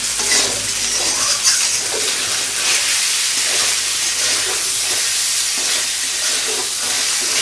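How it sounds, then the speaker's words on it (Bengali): Potatoes sauté in mustard oil for a rohu fish kalia, a loud, dense hissing sizzle that runs steadily throughout with faint stirring underneath. "আলুটা কিন্তু এখানে খুব সুন্দর আগে কষানো হচ্ছে"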